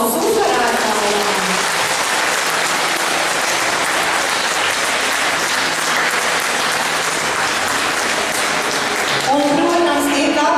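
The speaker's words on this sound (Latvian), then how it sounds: "Meitenes un vecāki, lūdzu aplausus uzvarētājiem!" Sustained applause for the winners at a girls' award ceremony, dense and loud clapping from a hall audience filling the whole stretch, with a voice emerging near the end.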